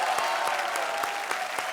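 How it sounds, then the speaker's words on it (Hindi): A comedy show studio audience claps loudly and continuously, with a faint regular beat of stronger claps running through the crowd's applause. "जोरदार तालियां इन सब के लिए।"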